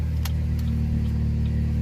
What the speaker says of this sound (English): You can hear something clicking, but it doesn't stop it from keeping going